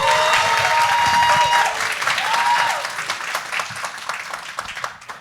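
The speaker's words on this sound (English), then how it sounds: "Please give them a round of applause." An audience at a film event claps loudly and steadily, then the applause thins out and fades away over the last few seconds.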